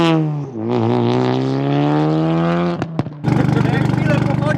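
Heavily modified car engine, a smooth idle that drops away, a couple of sharp blips, then a loud, pulsing, aggressive rumble close by.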